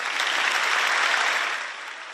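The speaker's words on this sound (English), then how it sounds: "Draghi addressed the lower house of parliament and was given a round of applause" Steady, dense applause fills the Italian parliament's lower house, a broad chamber-wide round of clapping that holds level then eases slightly toward the end, with no speech over it.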